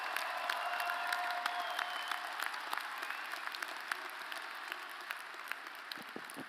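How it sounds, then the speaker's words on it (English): Sustained applause from a crowd at a fall commencement ceremony, steady dense clapping with a few sharper claps standing out, continuing at an even level throughout. "A round of applause, please, for all of their efforts."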